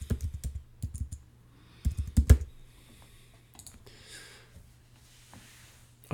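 Close clicks of a computer keyboard come in short irregular bursts, a few quick keystrokes at a time, with a louder cluster near the middle and quiet gaps between.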